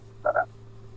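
A giant frog in the video game Memoranda gives two quick, close croaks in a row. A faint steady hum sits underneath.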